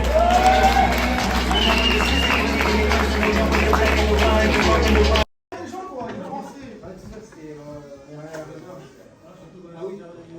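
Spectators at a jiu-jitsu competition applauding the winner, a loud burst of clapping and crowd noise that cuts off abruptly, followed by quieter hall ambience with voices talking.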